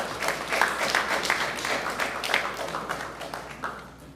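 Applause for election observers during a results presentation in Anguilla, a moderate patter of claps from a gathered room that holds steady and then tapers off over about four seconds.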